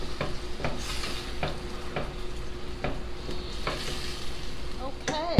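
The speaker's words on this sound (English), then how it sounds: "And now you're going to mix everything together." Brandy and cream sauce for steak Diane being stirred in a sizzling pan, a steady frying hiss with repeated scraping strokes of the utensil, close and alone.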